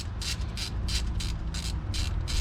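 A small spanner ratchets on a bolt of a Suzuki GSX-R water pump, giving a rapid series of about six raspy clicking bursts in steady rhythm, close up over low background rumble, with no talking.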